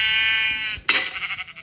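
A Minecraft sheep bleats twice in the video game, a drawn-out nasal bleat followed by a shorter, brighter one, close and clear with no talk over it.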